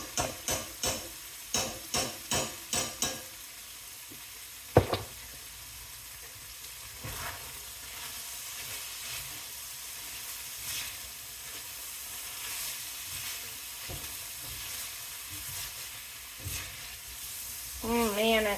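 Pepper steak and minced garlic sizzle in a frying pan, opening with a run of rhythmic taps from stirring, then a steady close hiss with occasional scrapes and clinks.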